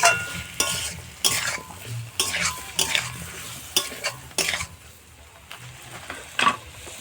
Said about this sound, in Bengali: এখন আমরা নুনটা দেওয়ার পরে এটাকে আমরা নাড়তে থাকবো ভালো করে